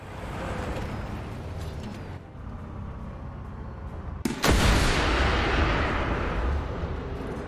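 An anti-tank missile fires in War Thunder, a sharp loud launch blast cutting through a steady rumbling engine and ambient noise, followed by a heavy sustained roar that stays close and loud.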